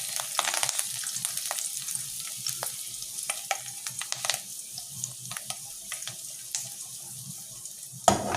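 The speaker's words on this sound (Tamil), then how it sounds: "கருவேப்பிலையை போட்டு ஒரு தாளிப்பு." Curry leaves sizzle in hot coconut oil as a tempering for Tamil fish curry, with crackling pops and scraping stirs over a soft running-water hiss in a kitchen.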